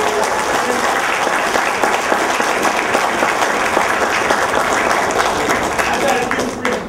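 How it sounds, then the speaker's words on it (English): At a fight event, a crowd gives a UFC fighter a loud, sustained round of applause, a dense wash of clapping and crowd noise that holds steady for nearly seven seconds. "Let's give him a big round of applause."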